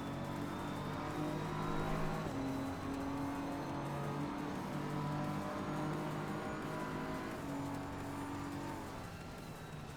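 Race car engine in the sim racing game Assetto Corsa Competizione, a steady droning tone that shifts pitch as the car holds speed and changes gear, loud and continuous throughout with no talking.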